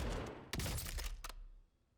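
Sniper rifle gunshots from Call of Duty Warzone on Verdansk: a sharp loud crack opens a dense burst of game gunfire and impacts, then a second short report before it fades into quiet ambience.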